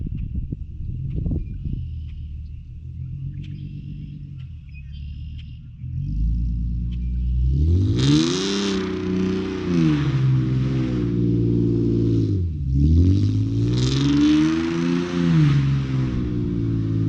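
A 370hp Hyundai Genesis Coupe with the 3.8 engine idles with a low rumble, then revs hard and accelerates, the engine note rising, dipping at a shift and climbing again, loud and close.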